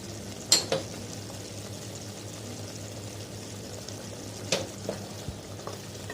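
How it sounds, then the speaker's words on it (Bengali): Ground spices for mutton chana masala (salt, chilli powder, turmeric, coriander powder) fry in oil in a pan, giving a steady low sizzle with two sharp spoon scrapes near the start and a few more toward the end. "এই মশলাটা তোমাদেরকে অনেকক্ষণ ধরে ভাজতে হবে"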